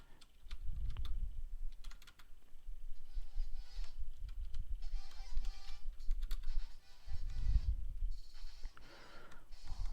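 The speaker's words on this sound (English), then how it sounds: "Let me type it into chat real quick." Quiet, quick keystrokes on a computer keyboard tap out in short bursts while someone breathes softly nearby, with no clear speech.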